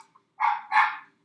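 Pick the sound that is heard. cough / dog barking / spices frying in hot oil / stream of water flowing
dog barking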